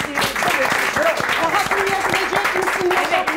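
A studio audience applauds on a Turkish cooking-competition show, steady dense clapping lasting throughout, with voices and some tonal sound mixed into the crowd noise.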